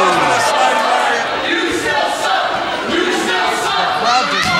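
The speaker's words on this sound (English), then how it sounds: "The crowd does not like Kelvin." A wrestling crowd at an indoor event loudly jeers and chants at a wrestler, a dense roar of shouting voices rising and falling in waves throughout.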